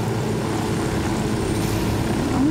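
Helicopter rotor and engine drone in Ghost Recon Wildlands, a steady loud mechanical hum filling the whole moment without pauses, with no talk over it.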